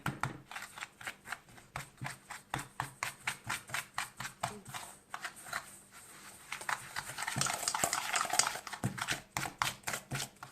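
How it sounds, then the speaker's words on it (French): A whisk beats sugar and vanilla into a cream in a bowl, producing rapid rhythmic scraping strokes in an even steady pattern, close and clear, briefly thickening into a denser swirl midway before the regular strokes resume. "Je mélange le tout bien jusqu'à ce que j'aurai une crème bien homogène."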